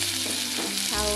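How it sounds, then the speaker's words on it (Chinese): Minced garlic sizzles in hot oil in a home kitchen wok, a steady frying hiss with a stirring scrape near the end, close and alone, cooking for a traditional black vinegar pig's trotter dish. "现在炒蒜泥"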